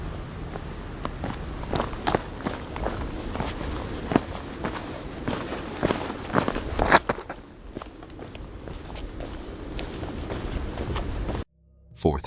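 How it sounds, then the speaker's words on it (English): Footsteps move through a forest, a run of irregular crunching steps on leafy ground close by, fairly loud and steady for most of the stretch, thinning out briefly before an abrupt cutoff near the end. "I make it back to my pack, I'm hearing footsteps again."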